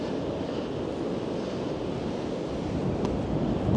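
Sea waves wash onto Filey beach as the tide comes in, a steady close roar of surf with wind buffeting the microphone throughout.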